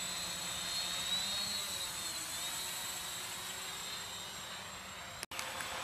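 A home-made 450-size quadcopter drone hovers with a steady, even buzzing whine of its motors and propellers, holding a constant pitch throughout, with a brief sharp click near the end.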